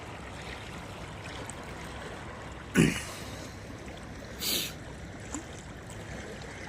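Water of the Mahisagar river flows with a steady, soft, broadband rush, fairly faint and continuous, broken by a couple of brief nearby knocks or splashes.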